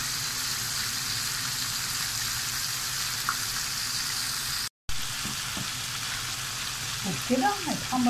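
Flour-coated fish frying in oil for sayadeya, a steady, close sizzling hiss throughout, briefly cut out midway, with a voice speaking faintly near the end.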